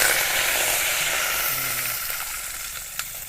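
Curry leaves hit hot oil already holding mustard seeds, cumin and sesame for a village-style tempering of bottle gourd khaman dhokla, giving a steady close broadband sizzle with a faint stir near the end.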